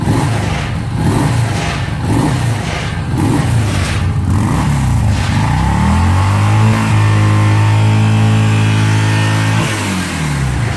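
A 2017 Yamaha SCR950 motorcycle's engine runs close and loud, with a pulsing idle followed by a rising rev that holds high before settling, with no talk.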